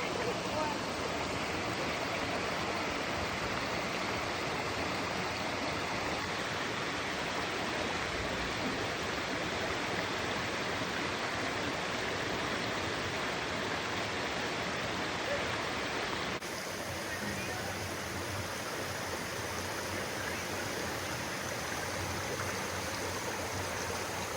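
Steady, dense rush of flowing water at Maunawili Falls in Hawaii, loud and close, continuous throughout with no pauses; a slight shift in tone partway through.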